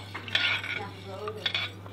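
Rice porridge being stirred in a metal pot, a few close scraping and clinking strokes of a spoon against the pot over a low steady hum, no voices.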